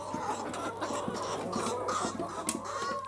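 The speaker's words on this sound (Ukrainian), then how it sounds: "Курей багато." Chickens cluck softly and repeatedly in the background, with occasional scratching and light rustling nearby, quiet and continuous.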